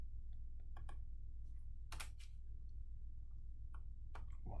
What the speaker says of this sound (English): if I type V on the keyboard